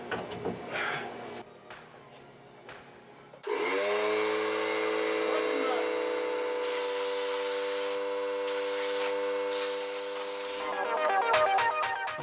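Clattering handling noises, then a loud, steady hiss of compressed air blowing dust out of a PC close by, with a few brief pauses between the bursts.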